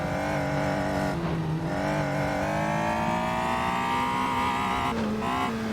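A race car engine in a sim racing video game revs steadily higher toward the red line, a loud, continuous rising whine with brief dips where shifts occur, and no voices.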